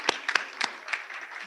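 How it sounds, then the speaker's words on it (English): A handful of scattered, separate claps from a small in-house audience at an open house event, sparse and uneven with quiet gaps between them, fading quickly. "let's give yourself a round of applause because we actually have a nice in-house audience here"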